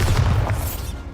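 Booming spell blasts from Confringo and Bombarda in Hogwarts Legacy, a loud, close explosive burst that rumbles and then fades away.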